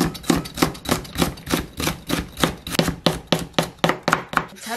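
Knife chopping vegetables such as onion for japchae into strips on a board, a brisk steady rhythm of about fifteen sharp close knocks, no talk.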